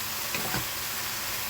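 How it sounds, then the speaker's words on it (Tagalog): Vegetables stir-frying over high heat with a steady close sizzle and a couple of brief scraping stirs near the start. "Saka ko na ilagay yung gulay. With high heat. No, para mabilis na pag-stir fry."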